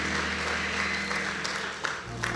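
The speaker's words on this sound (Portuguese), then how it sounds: "Vamos aplaudir o Senhor Jesus." A church congregation claps together for Jesus in a continuous, full burst of applause that stays strong and even, fading slightly near the end.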